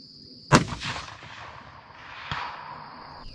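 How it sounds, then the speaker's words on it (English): A 25 Creedmoor rifle firing a Hornady 134-grain ELD Match round at a steel plate gives one sharp, loud report with a rolling tail, then a faint distant clang of the hit about two seconds later. "Let's shoot that, see where we are."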